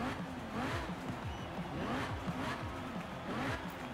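A Lamborghini/Audi R8 V10 engine revs in Forza Horizon 4, rising and falling in repeated pulls, held steady at moderate loudness with no other sounds over it.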